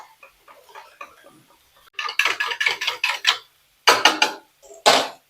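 Gram flour (besan) and yogurt are mixed in a bowl: quick rhythmic bursts of a spoon clinking and scraping against the bowl, close and fairly loud, separated by short pauses.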